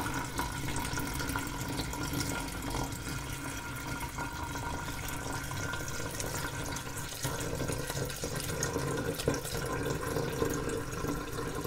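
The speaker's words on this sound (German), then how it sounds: "So, jetzt fülle ich erstmal das Wasser ein." Water from a tap or jug pours steadily into a glass jar for a DIY summer decoration of wild meadow greenery, a continuous close splashing and trickling with no break and no talk.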